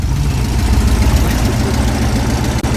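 Air-cooled VW Beetle engine idling steadily after a repair, a loud, close, continuous low rumble with an even throbbing rhythm and no talk.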